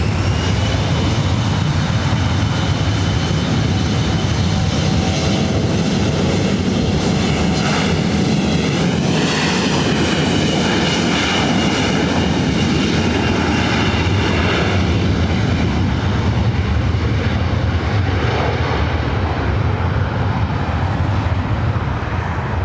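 Delta Connection SkyWest Embraer E175 LR regional jet arriving from Reno at LAX, a loud sustained jet engine roar with a whining tone that swells in the middle, then gradually fades.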